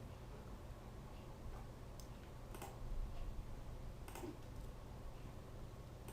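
Keys tapped on a computer keyboard while a new Python file is created, a steady run of soft, close clicks with a few sharper taps over low background hum.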